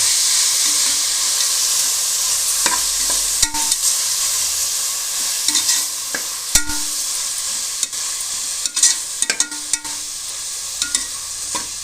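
A mushroom biryani mixture with mint is stirred in a pan, a continuous frying hiss broken by sharp spoon scrapes and clacks against the metal at irregular intervals, close and fairly loud, with no talking.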